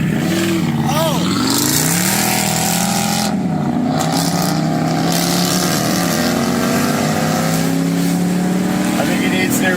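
Loud engines revving hard in a rev-off, rising and falling roars with layered engine tones over a constant rumble, with voices shouting over them.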